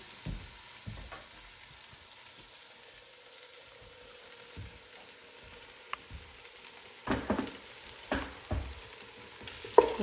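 Corned beef, cabbage, potato, carrot, garlic and caraway soup simmering in a pot makes a quiet, steady bubbling and sizzling, with occasional soft clinks and stirring scrapes that grow louder near the end.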